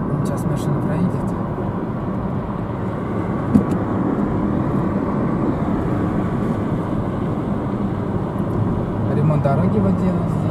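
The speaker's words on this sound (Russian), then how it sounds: "сейчас машина проедет" Steady broadband road rumble from inside a moving car on a rural Russian highway near Cheboksary as another vehicle overtakes, continuous and fairly loud with a voice talking over it.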